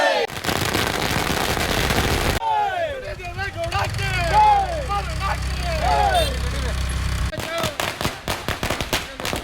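Firecrackers burst at a JDS party workers' celebration of a women's dairy society election win in Marutipura, a rapid crackling barrage at the start and again at the end, with a voice talking over a hum in between.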